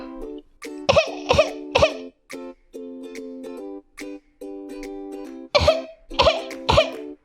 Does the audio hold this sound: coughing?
yes